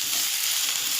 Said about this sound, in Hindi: टोप रखी हूँ गैस पर तेल गरम होने के लिए, उसमें प्याज डाल रही हूँ।